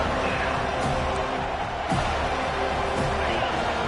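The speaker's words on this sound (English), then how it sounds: "this crowd trying to help keep them there" A college football stadium crowd roars continuously during a third-down play, a dense, loud wall of cheering and noise with an announcer's voice carrying over it.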